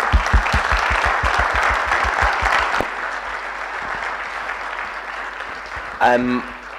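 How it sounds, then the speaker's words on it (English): Audience applause for panelists at the close of a Sunday afternoon documentary panel discussion, beginning with dense sharp clapping that softens into a steady wash, with a brief voice near the end. "Let's give them a round of applause"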